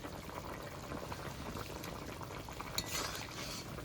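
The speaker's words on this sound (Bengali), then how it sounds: "একটু নেড়ে চেড়ে নিলাম, হালকা একটু কালার হয়েছে।" A fish head curry with turmeric and salt is stirred in a pan, giving a soft, continuous bubbling sizzle with faint spoon scrapes throughout. The sound is fairly quiet and close, with no talking.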